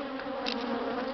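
An angry swarm of bees, freshly caught and already stinging, gives off a faint, continuous, even buzz with no voices.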